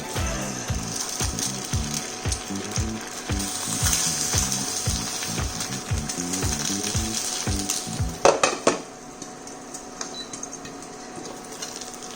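An egg frying in a pan gives a steady crackling sizzle with a rapid, regular ticking pattern that runs for about eight seconds, then cuts off abruptly into a quieter hiss.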